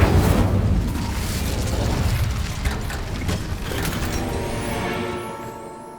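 An Incendio fire spell is cast in Hogwarts Legacy, a loud whooshing, roaring burst of flame with a low rumble that holds steady and then fades out over several seconds.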